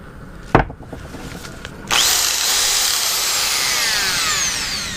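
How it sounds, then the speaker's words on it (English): A couple of sharp knocks, then a power drill starts up and runs steadily, its spinning brush scrubbing loudly against a hard surface while cleaning a beehive frame damaged by wax moths. "you see I got a drill. I'm gonna try this brush"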